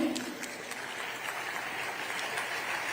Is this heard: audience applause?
yes